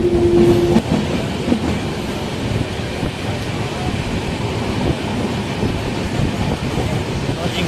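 The Kannur Express train, running from Yesvantpur to Kannur, rumbles along the tracks with a steady, loud roar, a brief tone sounding at the start and faint voices underneath.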